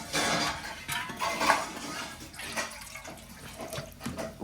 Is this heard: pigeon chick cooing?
no